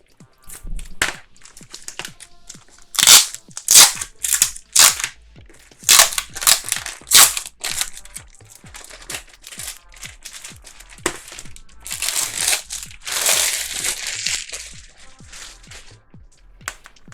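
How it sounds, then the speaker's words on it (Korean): Thin clear plastic packaging on an A3 cutting mat is torn open by hand, giving loud, close crinkling and ripping bursts in irregular clusters with short pauses between. "얇고 투명한 비닐 포장이 되어 있습니다. 포장을 뜯어볼게요."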